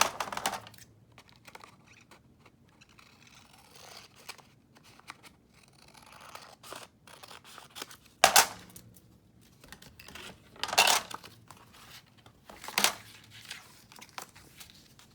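Scissors or a craft cutter slicing paper along a ruler for a shabby lace folio, with soft crinkling and a few sharper snips and rustles, close and fairly quiet.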